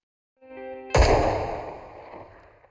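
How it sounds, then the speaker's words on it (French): One sharp, loud gunshot cracks after a short tonal lead-in, its echo decaying over the next two seconds. "Un coup de feu retentit."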